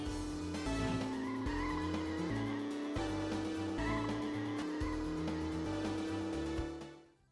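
Cars racing on the Peach Town track in the video game Road Trip Adventure, with a steady engine drone and tire squeals blended with a tonal backing track, holding an even level before fading out at the end.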